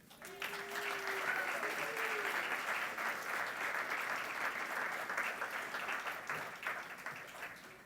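Sustained audience applause at a 2019 alumni awards ceremony welcoming an honoree to the stage, a steady roomful of clapping lasting several seconds, with a voice briefly heard at the start.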